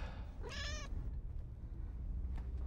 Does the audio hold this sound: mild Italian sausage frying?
no